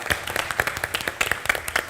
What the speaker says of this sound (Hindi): जोरदार तालियां फॉर बीइंग अ स्पोर्ट